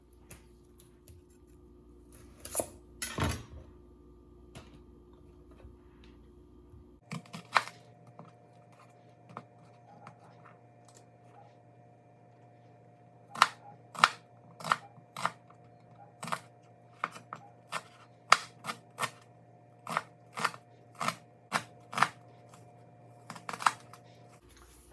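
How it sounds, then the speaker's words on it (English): Onions sliced with a knife on a cutting board in a home kitchen, heard as a series of crisp, evenly spaced taps, close and moderately quiet, with longer pauses between bursts. "we're going to cut the onions up"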